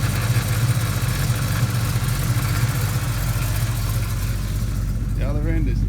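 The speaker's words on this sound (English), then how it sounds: "Engine wise, it's very quiet. Lovely quiet engine." A 351 Cleveland V8 in a restored XE Falcon ex-police car idles with a low, steady rumble, quiet and even, with a brief squeaky sound near the end.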